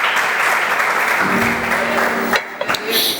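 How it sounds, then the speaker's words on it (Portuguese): Church congregation applauding in praise, a loud sustained wash of clapping that breaks off abruptly, followed by scattered voices and cheers. "Aplauso ao Senhor."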